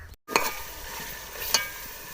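Beef with onion and tomato sautés for yakhni pulao, a close, moderately loud sizzle with two sharp spatula knocks against the pot and a brief dropout near the start.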